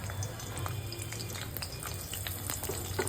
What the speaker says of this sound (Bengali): তেল গরম হয়ে গেছে, এবার আমি পেঁয়াজ দিয়ে দিচ্ছি।